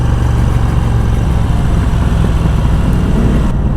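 A Moto Guzzi V7 Sport motorcycle engine throbs steadily while riding, a loud, continuous low-pitched rumble mixed with wind noise that holds evenly throughout before easing slightly at the end.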